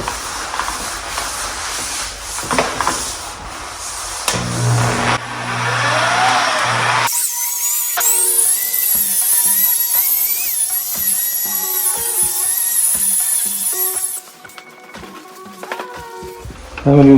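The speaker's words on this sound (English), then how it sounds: "I'm going to buff the hood here, some rubbing compound, some 3M. I'm going to use a hard pad for now." A polisher with a hard pad and 3M rubbing compound buffs the hood of a John Deere D140 lawn tractor, whining steadily at high pitch for several seconds, with someone talking before it starts.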